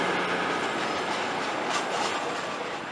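A seven-car train bound for London St Pancras International rolls past nearby with a steady, loud rumble, wheel noise and a faint squeal, and no voices over it.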